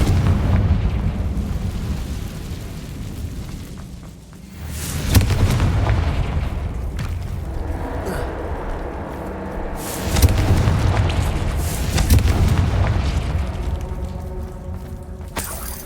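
Repeated Confringo fire-spell blasts in the video game Hogwarts Legacy, deep booming explosions that erupt and roll over a loud rumbling backdrop, with heavy impacts near the start and again around the middle.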